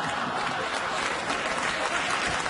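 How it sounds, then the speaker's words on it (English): A late-night talk show studio audience breaks into sustained, even applause that stays dense and loud for its full length, with no talk over it. "the audience applauded the idea of it"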